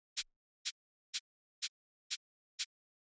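A hi-hat run through distortion on an SSL channel strikes seven times at an even, steady pulse. Each hit is short, bright and crisp, with clean silence between the strikes.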